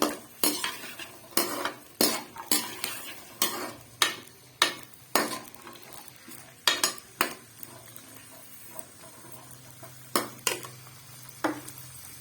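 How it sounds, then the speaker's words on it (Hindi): A utensil repeatedly clanks and scrapes against a pan while vegetables fry in ghee for fried rice, sharp irregular knocks over a faint soft sizzle. "इसको हम जो है घी में फ्राई करेंगे"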